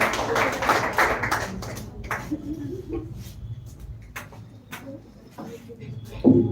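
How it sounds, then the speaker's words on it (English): Audience applause for a speaker at a speech competition semi-final, a burst of clapping that thins into scattered claps and taps, with voices in the background. "Clap for him."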